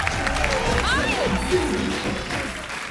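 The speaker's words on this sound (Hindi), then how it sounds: "आपकी जोरदार तालियों के बीच इनवाइट करना चाहूंगा जैमी का।" A studio audience at a Hindi comedy talk show claps and cheers, a broad wash of applause filling the room while a voice speaks over it.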